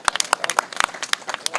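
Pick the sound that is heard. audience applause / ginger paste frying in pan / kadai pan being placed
audience applause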